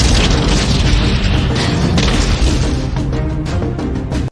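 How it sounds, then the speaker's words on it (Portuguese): Loud, dense explosion blast of a Lada car from an action movie chase scene in Prague, a sustained booming roar with crashing debris filling the whole stretch before cutting off abruptly. "explodindo um Lada, fazendo um monte de bagunça no Missão Impossível"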